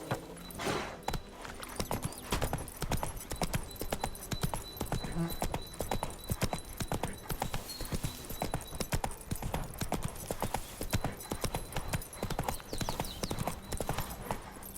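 Roach, the player's horse in the video game The Witcher 3, gallops with loud, steady clip-clop hoofbeats running the whole stretch, a brief whinny near the start over faint ambient game sound.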